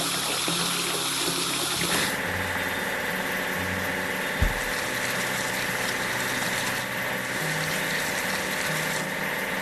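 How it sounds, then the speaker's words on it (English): Water washing a toy track laying machine, a continuous hissing spray over a steady pump-like hum that shifts in tone partway through, with one brief knock, no voices. "We need to wash the track laying machine."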